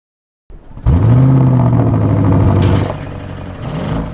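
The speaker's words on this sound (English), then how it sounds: "you'll just want to sit back and listen to that V8 engine growl." A 2021 Audi RS7 V8 with sports exhaust barks to life after a brief silence, then holds a loud, deep, steady growl that dips and swells slightly near the end.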